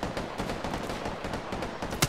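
Automatic gunfire from Apex Legends, a dense, fast run of shots firing continuously for about two seconds, loud and close, with a sharper crack at the very end and no speech.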